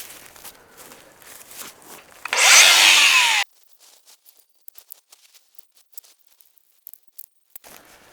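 An angle grinder grinds nails off long old wooden boards, giving one loud, harsh burst of about a second that cuts off abruptly. Quiet scattered knocks and handling sounds follow.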